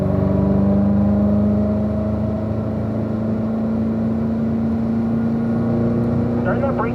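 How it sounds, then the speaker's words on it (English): Race car engine pulling up through the gears into fourth along the front straightaway of a track, a steady loud drone with a rising pitch, heard from inside the car under continuous talk. "Up into fourth gear here on the front straightaway."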